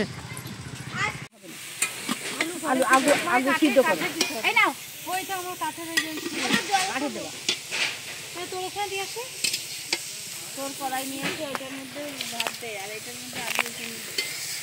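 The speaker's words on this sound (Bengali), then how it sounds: "শাক ভাজা হচ্ছে, শাক ভাজা করছে কে?" Greens (saag) frying outdoors at a picnic, a continuous sizzle and stirring underneath lively overlapping talk from several people.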